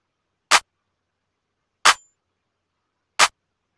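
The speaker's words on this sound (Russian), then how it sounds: "Дальше клэп, он состоит из трех" Layered clap sample in an FL Studio beat: three crisp, identical claps played alone at even intervals, each short and sharp with silence between.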